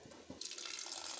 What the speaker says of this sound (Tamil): இதை ஒரு வாட்டி அலசிட்டு வந்துடுறேன்